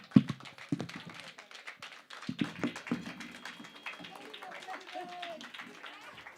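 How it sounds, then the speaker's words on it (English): An audience claps at a mentorship programme event, sharp scattered claps at first swelling into a spread of applause that tapers off, with a voice speaking over part of it. "Round of applause."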